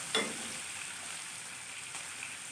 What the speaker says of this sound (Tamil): தக்காளி எல்லாம் நல்லா இப்படி இந்த மாதிரி வதங்கி எடுத்துக்கணும்